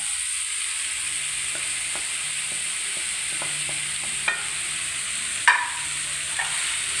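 A spoon stirs crushed spice paste into banana flower frying in a pan for vazhakoombu thoran. Soft continuous sizzling runs under scattered scrapes and taps of the spoon, with a few sharper clinks near the end.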